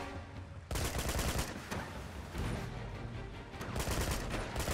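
Close, rapid automatic gunfire in Uncharted: Drake's Fortune comes in dense bursts with brief pauses, loud and harsh throughout, with no talking.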